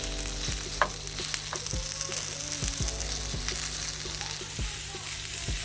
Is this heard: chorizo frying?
yes